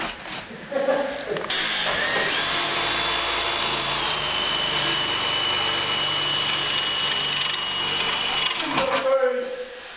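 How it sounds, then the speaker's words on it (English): A power drill whines continuously against metal for several seconds, drilling out spot welds on a car body in a garage, loud and close, starting and stopping with brief clatter at either end. "drilling out the spot weld, and then the bottom lip should come off"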